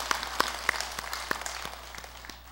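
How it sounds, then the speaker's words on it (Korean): Scattered hands clap at a Sunday Dharma service at Jogyesa Buddhist temple, a handful of sharp claps in the first second and a half thinning into fainter patter as it fades. "제가 박수 쳐드립니다."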